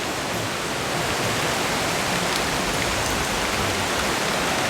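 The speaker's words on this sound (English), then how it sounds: "then it started raining so heavily and now we're stranded in the center of the forest" Heavy rain pours down in a Kerala forest near Vagamon, a dense, continuous hiss of downpour with no pauses, loud and close throughout.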